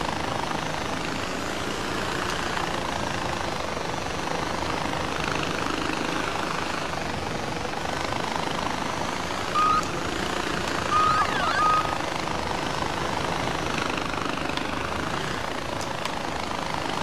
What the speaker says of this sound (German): ich glaube, der Heli ist mal gut im Arsch